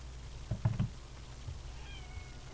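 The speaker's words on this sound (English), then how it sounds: "Just one meow." A pet cat named Roxy lets out a few short meows close by in a quiet room, clustered together early, followed by a fainter sound and background hiss.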